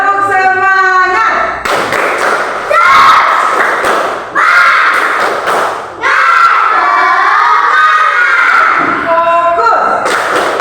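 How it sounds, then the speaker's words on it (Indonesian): Children in a classroom clap and chant together in a loud, rhythmic group spirit cheer, with bursts of shouting voices and steady clapping filling the space. "Tepuk semangat."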